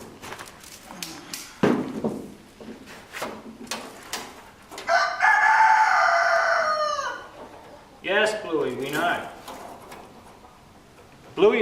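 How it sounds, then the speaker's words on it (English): A rooster crows loudly nearby, a long drawn-out call in the middle, with clucking and people talking before and after. "is our rooster, by the way. That's who you hear crowing all the time."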